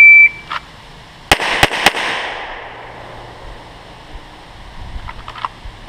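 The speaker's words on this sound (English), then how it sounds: "See the front sight, press a shot." A short electronic beep precedes a handgun drawn from a holster and fired at 5 yards on a range, with a few loud, sharp cracks close together that echo briefly before fading to quiet.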